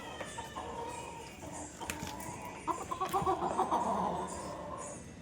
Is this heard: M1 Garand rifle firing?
no